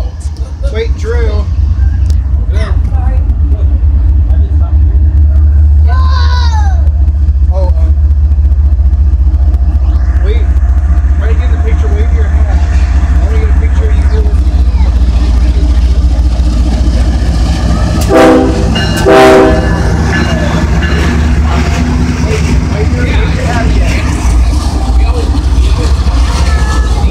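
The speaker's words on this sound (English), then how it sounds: "And there goes that train" A Union Pacific train, including locomotive UP1983, rolls past at the Sacramento and Roseville rail area with a loud, continuous low rumble and a couple of horn blasts near the end, while people talk nearby.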